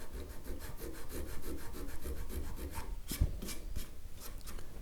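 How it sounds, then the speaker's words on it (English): Fine abrasive rubbed back and forth along a guitar fret on a Telecaster-style build, a steady rhythmic scratchy rasp with regular strokes, close and fairly quiet, no talk. "And just polish your fret up."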